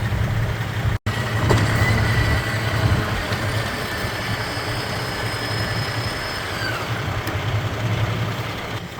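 A motorized tarp rolling closed over a grain truck trailer during harvest gives a steady mechanical drone with a low hum and a thin whine rising and falling above it, continuous and fairly loud.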